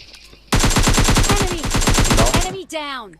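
Rapid automatic gunfire in the PUBG Lite video game, a loud, close burst of about two dozen evenly spaced shots lasting roughly two seconds, followed by brief gaming sound effects.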